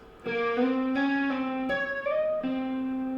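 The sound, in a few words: electric guitar tapping riff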